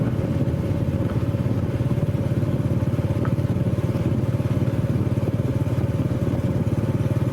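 Motorcycle ridden steadily along a road past bamboo forest and limestone hills in Laos, a constant close engine drone with even low rumble and no changes in pace throughout.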